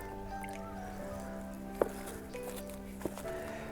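Dark stagnant water drips and squishes as soaked coconut substrate is squeezed out, with a couple of brief sharp splats standing out over a quiet, steady background hum.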